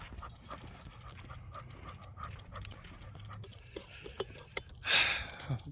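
A 13-year-old dog pants steadily in rhythmic breaths close by, with a louder burst of noise near the end; no one speaks.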